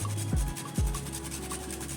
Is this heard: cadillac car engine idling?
no